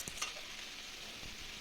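Cauliflower and potato sautéing with a spice paste in a pan, giving a steady quiet sizzle with a couple of brief stirring scrapes near the start and a soft knock later.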